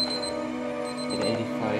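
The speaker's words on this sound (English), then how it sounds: "this is just my alarm" An alarm clock rings steadily and loudly for the whole stretch, its repeating electronic tone held against a faint room hum near a catalytic heater on a hydrogen and propane stove.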